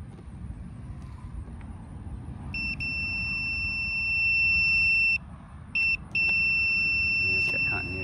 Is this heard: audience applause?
no